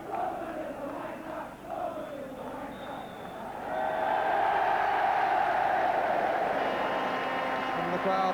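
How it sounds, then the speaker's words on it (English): Football crowd at Tottenham applauding after an opening spell of play, a broad wash of clapping and cheering that swells louder midway and holds steady, with commentary voices over it. "the crowd applaud a very satisfactory opening performance by Tottenham"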